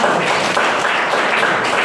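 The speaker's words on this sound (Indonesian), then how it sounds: "kasih tepuk tangan untuk kelompok damai sejahtera" A dense wash of clapping from a group, steady and fairly loud throughout the short stretch.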